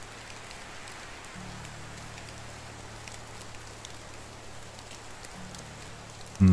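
Steady rain falling in the woods in Medieval Dynasty, a soft continuous hiss of drops with a low hum beneath, holding at an even level throughout with no talking.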